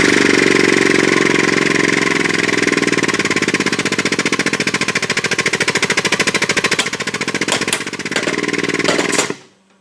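A hydraulic pump and drive cylinders of a MultiCut balanced drive system run loud and close, a rapid mechanical pulsing chatter that holds steady before cutting off abruptly near the end.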